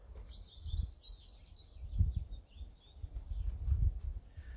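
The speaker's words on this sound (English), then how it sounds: "I'm hearing that field sparrow down there." A thin, high field sparrow song repeats softly at a distance over a low, rumbling outdoor background, with no voices.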